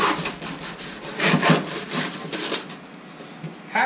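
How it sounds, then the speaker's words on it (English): A hacksaw cutting through a foam pool noodle, with rapid, rasping back-and-forth strokes that are loud and close, pausing briefly near the end. "Hacksaw makes really short work out of this."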